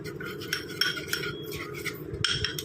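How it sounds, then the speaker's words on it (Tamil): A spoon stirs a thick coffee powder face pack mixture in a small bowl, giving repeated light scraping and clinking strokes close by with no talking. "ஆட் பண்ணிட்டு இதை நல்லா மிக்ஸ் பண்ணி விட்டுக்கலாம்."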